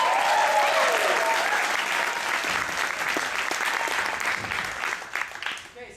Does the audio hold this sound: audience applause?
yes